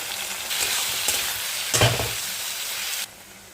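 Fish frying with chili, salt, tomato and turmeric crackles steadily in a pan, with a louder stirring scrape in the middle before the sizzle cuts off.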